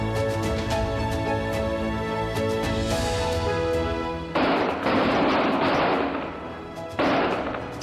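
Gunfire from the 26/11 Mumbai terrorist attacks: a loud burst of rapid shots, each one cracking out, comes in over a sustained musical tone and then repeats a few seconds later.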